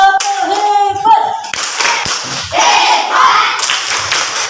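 A school class does the 'tepuk hebat' clapping routine at the end of an Islamic religious education lesson: rhythmic bursts of group hand claps, close and fairly loud, with a teacher's voice mixed in at the start.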